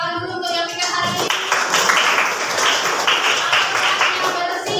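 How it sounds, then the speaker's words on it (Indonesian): Classroom applause, a dense burst of many small hands clapping together for several seconds, with a teacher's voice briefly heard at the start. "Tepuk tangan dulu untuk yang bikin hari ini"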